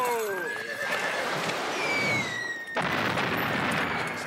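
A horse neighs loudly in a battlefield setting where a rocket has just frightened it, a long shrill descending whinny followed by a second cry, with rumbling noise of the battle underneath.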